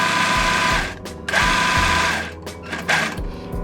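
A big, noisy sewing machine stitching fabric ruffles over fishing line, its motor running in loud whirring bursts with brief pauses between runs, close up.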